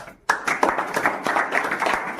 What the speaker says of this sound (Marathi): आता आज आपण या ठिकाणी ग्रामपंचायत ज्यांनी उपलब्ध करून दिली त्यांच्याबद्दल आपण टाळी वाजवायची.